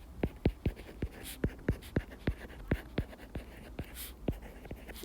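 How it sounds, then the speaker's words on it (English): A pen writes out x values for a relations and functions lesson, a run of quick, sharp, evenly spaced taps and strokes, close and soft, with no talking. "And for explain, I'm going to write the x values"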